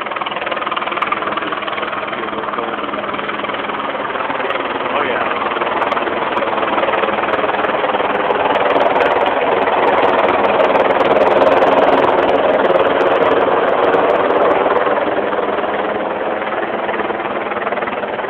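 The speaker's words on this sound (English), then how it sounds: "Here comes the helicopter." Loud, continuous rotor and engine drone of helicopters flying overhead in formation at a funeral procession, swelling slightly in the middle as they pass, with no one talking.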